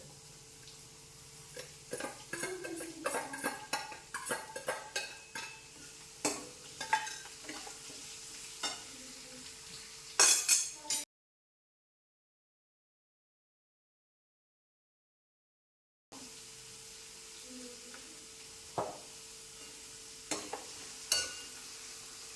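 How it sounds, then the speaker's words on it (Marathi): Onion fries in oil while a utensil stirs it: a scraping, clattering stir with sizzle underneath, a loud cluster of scrapes near the end of the first stretch, then a silent break and more stirring. "अजून लागेल तेल कांदा व्यवस्थित भाजून घेऊया"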